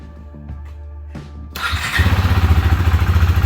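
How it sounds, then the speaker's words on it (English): A Husqvarna Svartpilen motorcycle engine cranks after a few faint clicks, catches with a sudden loud burst and settles into a close, steady, throbbing idle. "But once you start the bike,"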